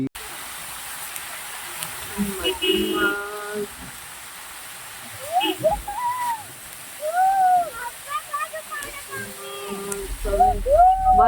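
Waterfalls and overflowing rivers roar with a constant broad rush during heavy monsoon rain in Ahwa, Dangs, while people talk loudly over the water throughout.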